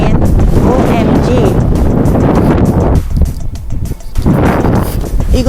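Strong cold wind buffets the microphone on a snowy mountain, loud roaring gusts that surge, briefly ease, then rise again.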